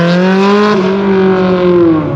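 Supercar fitted with an aftermarket exhaust at the Brands Hatch circuit gives a loud, close, sustained rev, its engine note rising slightly and then holding a rich droning howl.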